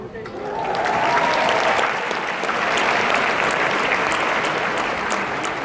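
Sustained audience applause fills a large hall at Florida Atlantic University's 115th commencement ceremony, a steady dense wash of many hands clapping that swells early and holds loud throughout.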